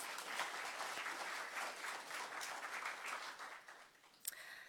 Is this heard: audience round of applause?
yes